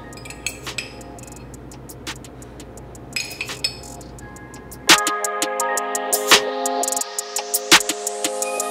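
A spoon scooping relish and organic olive-oil mayo from glass jars, giving a run of light clinks and taps against the glass, close by, with quicker, brighter knocks over a steady humming background in the second half.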